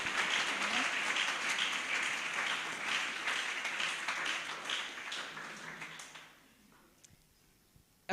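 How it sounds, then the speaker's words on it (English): Audience at a workplace safety and health day event clapping, a sustained round of applause that gradually thins and dies away into near quiet, with a sharp sound at the very end. "needs a bigger clap than that"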